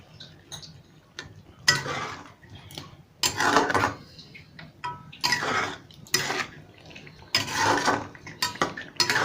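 Fried potatoes tip into a cooking pan for chicken kofta, bursts of clattering and scraping as pieces tumble in and a utensil knocks the metal, several loud irregular rattling spells with short pauses and no speech.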